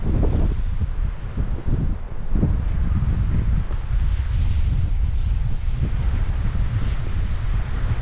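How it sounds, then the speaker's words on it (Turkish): Wind blows hard and steadily across the microphone at a seaside campsite in Marmaris, Turkey, buffeting in low gusts with a few louder bursts, no voices present. "Biraz hava rüzgarlı şu anda."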